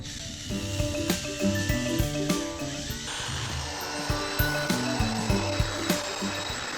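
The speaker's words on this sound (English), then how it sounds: "I used a wire wheel to get rid of some of the rust in the nooks and crannies" A wire wheel grinds rust off an axe head with a steady, close, harsh hiss and rattling scrape, with recurring ticks as the metal is worked against it.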